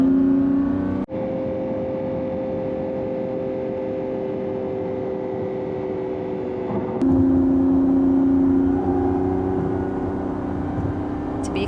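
Inside a Lamborghini Revuelto, the V12 drones steadily behind the cabin with sustained tonal engine notes that shift in pitch as it revs and holds, loud and continuous throughout, with a brief gear-change break.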